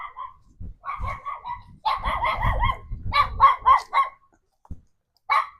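A dog barks in a series of sharp, close, loud yaps and bow-wows, some in quick clusters, with a brief pause before a final bark, outdoors in Plantation, Florida.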